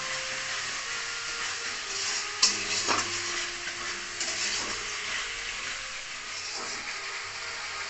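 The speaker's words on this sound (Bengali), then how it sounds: "একটু ভাজতে হবে মশলাটা।" Spice paste fries in oil for dhokar dalna, a steady soft sizzle with a few sharp clicks and taps of a spoon against the pan, close and alone without talk.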